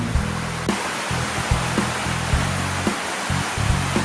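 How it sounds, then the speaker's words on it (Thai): Waterfall roaring steadily, a broad constant rush of falling water, with a few faint low thumps underneath. "ดูบรรยากาศน้ำตกกันเพลินๆก่อนนะครับ"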